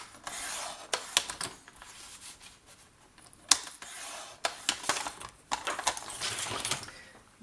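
Paper is scored on a scoring board while card-making crafts are assembled, giving a series of short, scratchy rubbing strokes and taps at irregular intervals, close by and fairly quiet.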